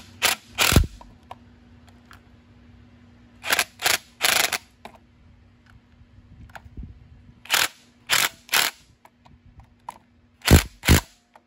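A ratchet wrench snugs up bolts during equipment prep, heard in short bursts of rapid clicking separated by quiet pauses, close and clear with no voices.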